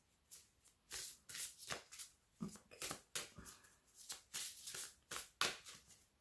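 A deck of mythology oracle cards being shuffled by hand, giving repeated quick riffling bursts in an uneven rhythm, close and fairly quiet, with no talking.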